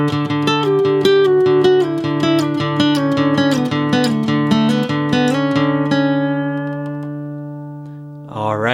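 Electric guitar plays a rock-to-raga style lead lick built around the flatted fifth, a run of clean sustained notes with steady plucked attacks, loud and close, fading out before a final bent note.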